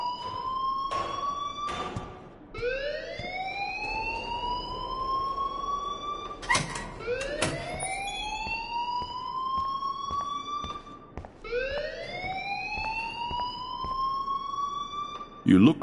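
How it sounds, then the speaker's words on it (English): A rising, wailing electronic alarm siren repeats in a video game, sweeping upward over and over, loud and steady with a few clunks in between. "please turn off that alarm since that's your job"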